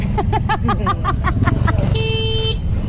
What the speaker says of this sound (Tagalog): Oh, lakas ng busina.